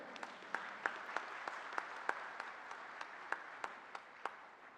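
Applause from an audience at a closing session of the ITCX 2025 tech conference in Tirupati, steady and moderately distant, with a handful of sharper individual claps standing out above the crowd throughout.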